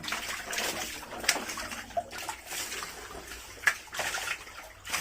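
Water drains and splashes out of a fish tank during harvesting, a steady close gurgling rush with occasional sharper splashes and drips, running continuously without talk.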